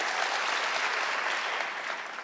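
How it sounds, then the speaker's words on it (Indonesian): A church congregation at a worship service applauds, a steady dense wash of clapping from many hands that holds evenly and fades slightly at the end. "Tepuk tangan yang meriah."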